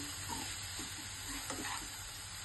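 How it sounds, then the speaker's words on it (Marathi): Coriander leaves being turned through a sizzling spiced tempering in a pan while making kothimbir bhaji; a steady close frying hiss runs throughout, with soft scraping of stirring on top. "कोथिंबीर अशी खालीवर करून घ्यायची, म्हणजे सगळी आपली फोडणी मिक्स होईल"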